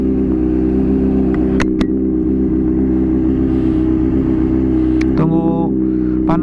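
A Honda CBR 600 RR HRC Edition 600cc sport bike idles steadily while warming up, a close, even engine drone with a few brief clicks and a short beeping near the end.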